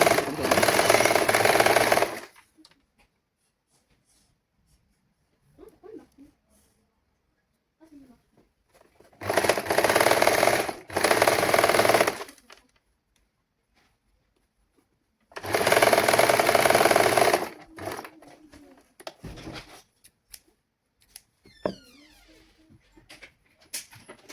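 An electric sewing machine stitches a prince-cut saree blouse in three loud bursts separated by quiet pauses, with faint handling noises and a voice speaking briefly in between.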